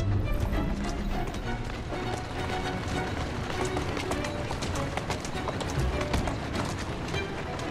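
Hooves clip-clop at a steady gallop through a busy game scene in Assassin's Creed Syndicate, continuous and fairly loud, with a person talking over it.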